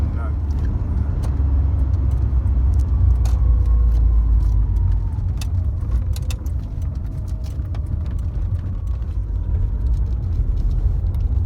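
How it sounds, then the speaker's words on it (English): A Lancia Delta HF Integrale heard from inside as it drives, a steady loud engine and road rumble throughout, with faint rattles and squeaks from the cabin. "So what do I think of my first drive in a Lancia Delta HF Integrale?"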